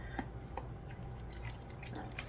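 Water poured into a new dish while making a sourdough starter gives a steady, close liquid trickle with a few drip-like splashes over a constant low background hum, with no voices.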